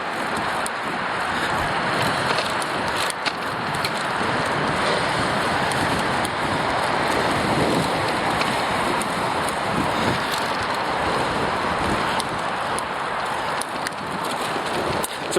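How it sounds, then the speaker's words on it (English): Gusty wind buffets the microphone on a bike ride along the Don River Trail in Toronto near the Millwood Bridge, a loud continuous rushing roar that stays steady throughout with no talking. "Surprisingly windy right now."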